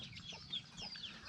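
Chickens cluck around a village house in Laos, a few short calls rising over a steady low rural background, with no voices.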